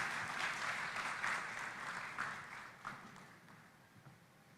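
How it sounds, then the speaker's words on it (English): Soft, dense applause fills a large hall at the COMESA Business Forum in Nairobi for the COMESA Secretary General, heard fairly far off and gradually tapering away. "let's give her a round of applause"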